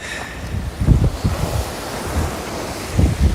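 Ocean waves crash and surge against the rocky shore at Sunset Cliffs in San Diego, loud and close, with heavy wind buffeting the microphone and two bigger swells rolling in.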